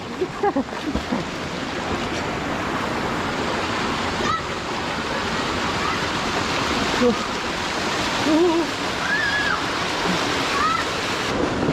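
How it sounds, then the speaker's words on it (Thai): A mountain stream rushing down at Wang Duean Ha waterfall: a loud, continuous broadband roar of flowing water close by, with faint voices now and then beneath it. "ลำน้ำไหลมาจากเขาครับ"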